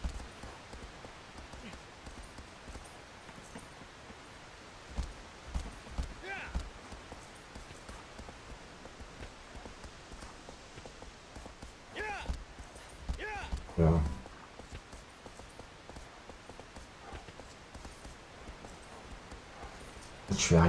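Horse hooves clip-clop in the Shadow of the Colossus video game, coming in short, scattered bursts of light clopping over a steady ambient background, with a voice faintly present in the mix.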